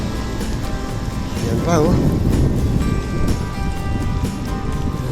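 Heavy rain falls steadily during a ride past resorts near the Agos River, a continuous wash of noise with a voice speaking over it.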